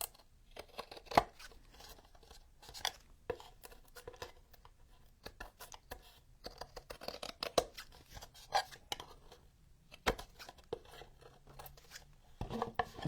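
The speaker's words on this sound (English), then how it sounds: "Scissors are less risky than the utility blade." Scissors snipping a glued craft piece for a wintertime brick-and-cobblestone vignette, a series of quiet, irregular close snips and rustles.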